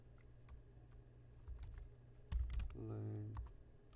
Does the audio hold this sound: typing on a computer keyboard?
yes